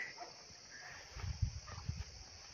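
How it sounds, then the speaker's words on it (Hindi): Faint dogs barking far off on a hillside across open quiet ground near Nainital, a few scattered low yelps over a steady background hiss. "उधर सामने पहाड़ी पर कुत्ते भौंसते हुए वहाँ तक की आवाज़ आ रही है"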